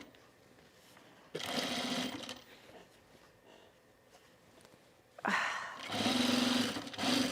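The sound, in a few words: industrial sewing machine top stitching a bag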